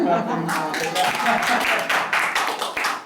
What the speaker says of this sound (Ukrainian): оплески